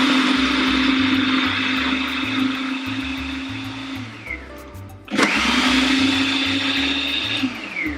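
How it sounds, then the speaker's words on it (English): A food processor blends onions with pineapple and mango for salsa in a loud, close motor whir that runs about four seconds, stops briefly, then starts again for another long burst, with music underneath. "let the food processor do the rest. Put those in there with the onions, and I'm gonna blend those up"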